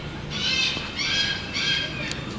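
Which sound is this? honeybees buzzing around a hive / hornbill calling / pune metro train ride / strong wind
hornbill calling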